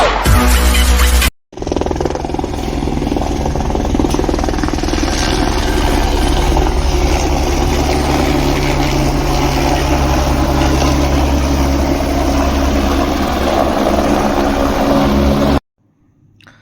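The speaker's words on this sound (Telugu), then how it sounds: "హెలికాప్యాడ్కి రాగానే హెలికాప్టర్ సౌండ్స్ చాలా ఎక్సైట్మెంట్ అనిపించింది" A helicopter engine roars loud and close at a helipad on the Kedarnath route in the Himalayas, a constant heavy thrum with whirring blades that holds steady before cutting off abruptly.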